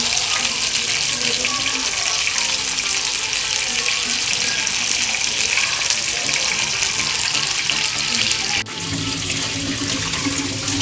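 Running tap water rinses out a fish container crusted with frozen ice, a steady, close, full rush of water with clattering washing noises that continues throughout and dips briefly near the end.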